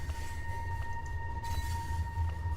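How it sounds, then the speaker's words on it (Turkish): A train in the video game Bunny Man gives a steady, droning low rumble with a sustained whistle-like tone held throughout, constant and fairly loud. "Tren sesi."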